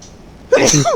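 A single loud human sneeze bursts out close by, after a brief, near-silent lead-in.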